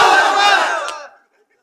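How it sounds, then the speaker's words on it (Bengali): A crowd of married men at a religious gathering roars a loud, unified takbir shout that holds for about a second and then fades quickly into silence. "এবার যারা বিবাহিত তারা তাকবীর হবে"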